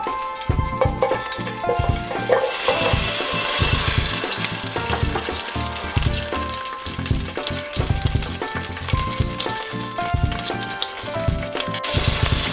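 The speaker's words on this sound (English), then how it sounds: "Now once the olive oil turns hot, we will add the green chilies." Green chilies sizzle and crackle loudly in hot olive oil in a pan, a dense continuous frying hiss with scattered pops and bursts of stirring, close and without talk.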